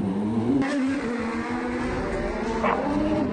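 IndyCar race car accelerating out of the pits, a loud close engine roar with a rising whine and gear changes over a steady droning hum, no voices.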